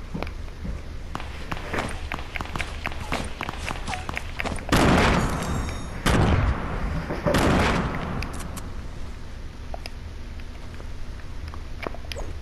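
Several loud gunshot bursts crack through a video game firefight, with the heaviest volleys clustered midway, over steady background game noise and scattered sharper pops.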